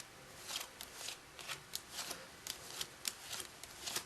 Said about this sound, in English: And now you deal through the cards, face up.